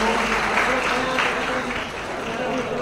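Audience clapping at a birthday anniversary program in Hyderabad, a steady wash of applause held at an even level for a few seconds, with some voices mixed in.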